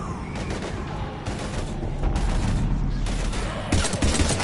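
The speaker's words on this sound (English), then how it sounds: "We're almost to the Normandy. I've got Lieutenant Vega with me, but we're taking heavy fire." Heavy gunfire rattles through a battle in Mass Effect 3, a dense, continuous fusillade of overlapping shots with louder bursts near the end, close and steady throughout.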